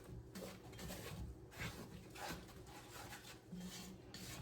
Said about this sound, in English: I'm scraping the bottom of the pot to get all those great juices and dripping